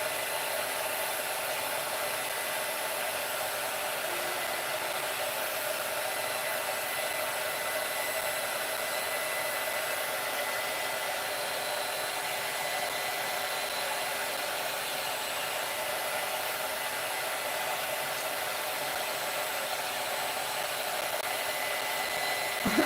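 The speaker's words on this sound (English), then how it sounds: "I don't know how close I need to get with this heat gun." A heat gun blows hot air in a steady, even, fairly quiet rushing whoosh that holds unchanged for over twenty seconds, with no talk.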